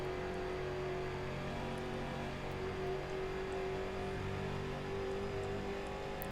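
Race car engines in the iRacing sim drone steadily on a straight, a sustained tonal whine with faint higher revs layered in, moderately quiet and unbroken, with no one speaking.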